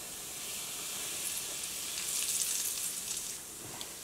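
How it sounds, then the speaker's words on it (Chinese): Scalding hot oil poured over flour mixed with Sichuan pepper and ground pepper, giving a continuous close hissing sizzle that swells slightly in the middle and then eases. "然后浇上30克滚烫的热油"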